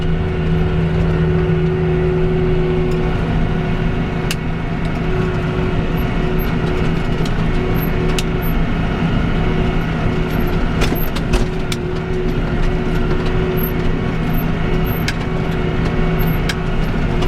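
An old M160 tractor with no front suspension drives through a paddock while spraying, its engine droning steadily with constant mechanical rumble and occasional rattles and clunks from the rough ride.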